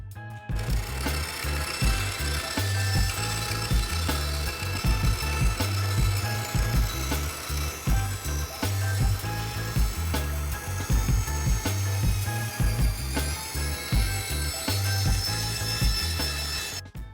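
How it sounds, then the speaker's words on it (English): Bandsaw slicing through foam along a template: a steady, loud machine drone runs throughout with a continuous low hum and dense broadband cutting noise, close and uninterrupted, no voices. "I started to cut it out with the knife, but I was getting a really rough cut, so I moved over to the bandsaw"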